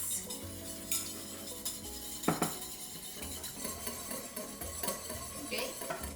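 A utensil stirs a sauce mixture for beef chow fun in a bowl, giving a run of close clinks and scrapes with one sharp knock partway through, over a low background hum and with no talking.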